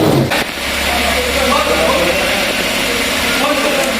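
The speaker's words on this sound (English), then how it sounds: "I'm going to start the car, put it in gear, just let it run" A car engine runs steadily in gear with a tyre spinning after brake pad work, a continuous low hum with a brief bump near the start and voices talking over it.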